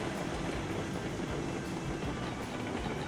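A train rolls along its tracks in the Railroads Online video game, a dense steady rumble and clatter of wheels that carries on continuously without talk.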